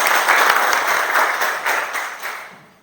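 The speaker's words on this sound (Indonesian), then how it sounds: "Iya, berikan aplaus." Classroom applause from a group of students during a teaching session, a steady dense patter of many hands clapping together for about two and a half seconds before fading out quickly.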